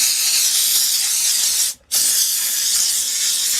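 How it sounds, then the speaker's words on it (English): A Harbor Freight steam cleaner blasts a steady, loud hiss of spray onto dirty motorcycle parts, cutting out briefly for a split second midway before resuming just as strongly. "the steam is the best way I know to get that final little bit of goop off, get the rest of the crap off"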